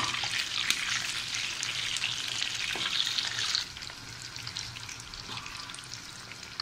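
Chicken pieces fry in a pan, a dense, steady sizzle close up that drops noticeably in loudness partway through, with a couple of soft clinks and no voices.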